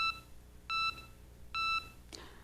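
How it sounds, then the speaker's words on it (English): Three short electronic cue beeps at a dubbing demonstration, evenly spaced with the last held slightly longer, faint and clean over a quiet room hum, followed by a soft brush of noise. "You're going to hear 3 distinct beeps."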